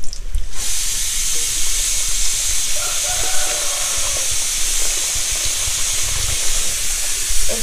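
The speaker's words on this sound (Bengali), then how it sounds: "তেলটা গরম হয়ে গেছে, এবার আমি আলুগুলো দিয়ে দেবো" Potato sticks for French fries drop into hot white cooking oil in a kadai, a loud steady hiss of frying bubbling throughout, with a brief clatter at the start.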